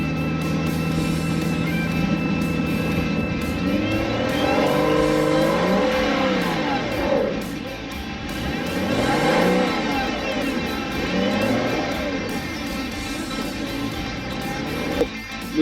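An off-road vehicle stuck in snow during winter off-roading at Wabun Lake, its engine loud and near, revving up and down in several long surges and falling back to a steady drone between them.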